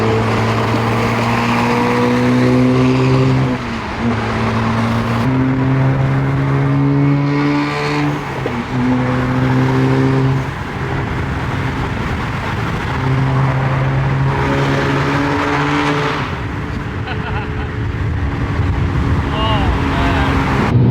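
A BMW E92 fitted with a VRSF exhaust drones and rises in pitch as it accelerates, the loud engine note heard from inside the car, climbing and dropping through gear changes, with people talking over it.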